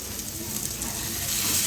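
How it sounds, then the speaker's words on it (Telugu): Fish fries in hot oil with curry leaves and coriander, giving a steady, close hiss of sizzling that grows slightly louder toward the end of the short stretch. "2 sides టర్న్ చేసుకొని కొంచెం కరివేపాకు కొత్తిమీర కూడా ఫ్రై అయ్యే వరకు ఉంచుకొని తీసేస్తే చాలు"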